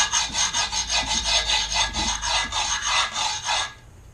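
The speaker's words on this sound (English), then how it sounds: "next you want to take an Allen key or a screwdriver. You want to go along the edge" Screwdriver scraping along the edge of grip tape on a six-inch-wide skateboard deck, a close rasping sound in about a dozen quick rhythmic strokes that stop near the end, no talking.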